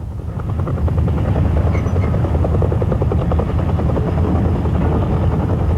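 A Soviet helicopter hovers with a slung load clamped rigidly beneath it, its rotor thumping in a loud, steady drone that holds evenly throughout.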